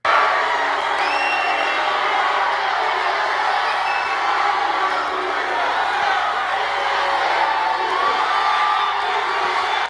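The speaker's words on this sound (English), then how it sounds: "This is the Trump crowd reacting to somebody wearing a KKK shirt." Crowd at a Trump rally in the Southern US shouting, whooping and cheering in a loud, continuous roar, with scattered voices rising out of the mass for the whole stretch.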